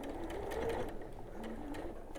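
A sewing machine backstitching small seams on a mini Christmas tree skirt, a faint, steady run of fast rhythmic stitching close by.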